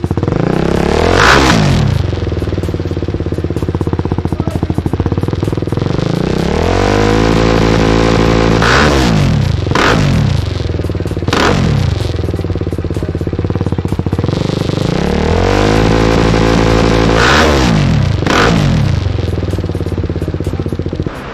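A BMW motorcycle fitted with an M1 Silver aftermarket exhaust revs loudly and close up in about four repeated bursts, each rising sharply and then falling back to a rumbling idle.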